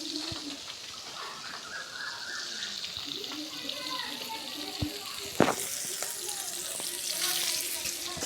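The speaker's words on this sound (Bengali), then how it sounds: "মাছটা আমাদের ভাজা হয়ে গেছে," Fish frying in a pan outdoors under a cloudy sky, giving a soft continuous sizzle with occasional sharp clatters and birdsong in the background.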